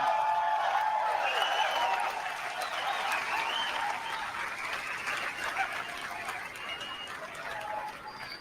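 Steady applause from a large keynote audience at Steve Jobs's iPhone launch, continuous and fairly even, with a slight fade toward the end.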